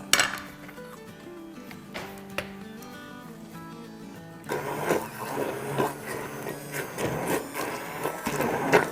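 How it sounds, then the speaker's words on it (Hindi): A hand blender kicks in partway through, coarsely blending cooked mustard greens for sarson ka saag, a dense whirring grind that runs continuously after a few quiet clinks and taps. "इसको हम थोड़ा हैंड ब्लेंडर से ब्लेंड करेंगे"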